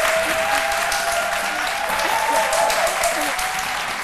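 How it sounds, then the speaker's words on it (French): Sustained applause from a studio audience on a live midday TV show, a dense steady patter of many hands filling the room, with faint voices murmuring underneath. "on applaudit pour deux raisons"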